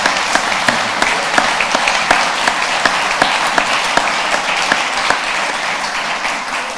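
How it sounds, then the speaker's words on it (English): An audience applauds steadily at a town-hall question event in Bolton, a loud continuous wash of many hands clapping with some distinct sharp claps standing out. "A round of applause everybody, please."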